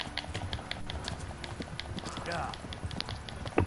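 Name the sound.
horse hooves in the video game Kingdom Come Deliverance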